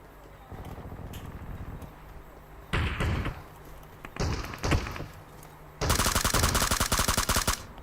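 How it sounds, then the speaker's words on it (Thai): Gunfire in the mobile battle royale game PUBG Mobile, with a quiet stretch broken by sharp, heavy blasts and ending in a loud rapid burst of shots. "ลูกซองยิงไปเหรอ"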